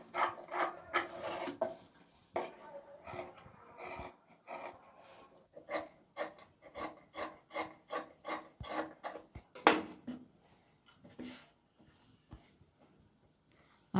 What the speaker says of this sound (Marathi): राहिलेलं कापड आहे ते कट करून टाकायचं आहे